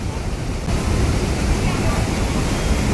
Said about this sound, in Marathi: हे असं पाणी इथून येतं आहे आणि इथे ब्रिज केला आहे